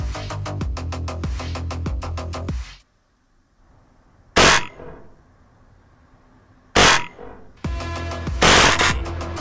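Weapon fire from a self-made multiplayer first-person shooter, with rapid evenly spaced shots, a silent gap, two isolated loud single blasts, and then another quick burst of repeated fire.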